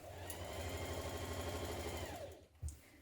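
A domestic sewing machine stitching a trouser inner leg seam at a small stitch length, running in a fast, even whir up close, then slowing and stopping, followed by a short thump.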